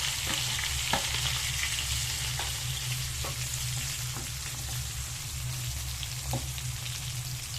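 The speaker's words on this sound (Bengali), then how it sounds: "জিরে গরম হয়ে গেছে বন্ধুরা, এবার আমি ভিন্ডাগুলো সব দিয়ে দেবো কড়াইয়ে।" Okra frying with cumin seeds in a kadai, a steady close sizzle with faint stirring taps running throughout, no voices.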